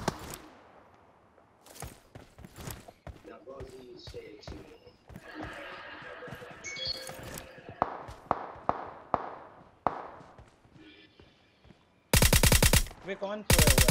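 VSS rifle fire in PUBG Mobile during a competitive scrim match: sharp, separated shots in short bursts amid horse-like game sounds, with a loud, dense burst of firing near the end.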